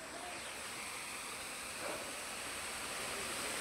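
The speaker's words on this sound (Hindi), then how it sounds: "this is the waterfall" Waterfall at Himayat Sagar, Hyderabad, with low flow after the monsoon: a soft, steady rush of falling water, fairly distant and unbroken, with no talking.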